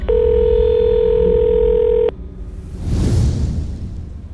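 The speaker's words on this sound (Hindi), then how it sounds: "अथर ने सबसे पहले मुझे फोन किया।" A steady telephone dial tone hums loudly for about two seconds, then cuts off and gives way to a soft rumbling whoosh, as a sound effect for a phone call.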